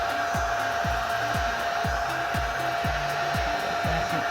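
A heat gun blowing hot air over epoxy resin, a steady close whooshing roar with an even tone, under faint repeated knocking sounds and no talk.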